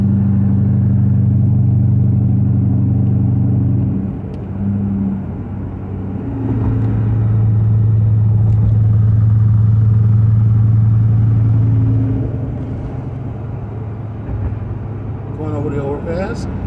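A car cruises along a road with its engine running, a loud steady low rumble that swells and eases as the throttle changes, close and continuous.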